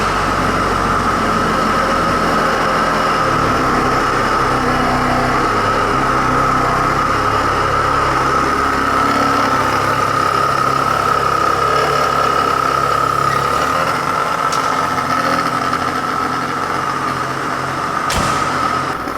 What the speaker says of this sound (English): So the engine needs to stay running for that.